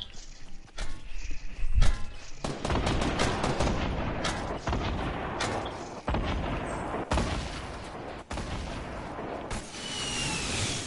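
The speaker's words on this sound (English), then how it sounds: "Fuck, they got a sniper in the back." Sniper and other gunfire in a video game firefight, heavy reports cracking repeatedly over dense layered noise, some shots near and sharp, others further off, with no talk over it.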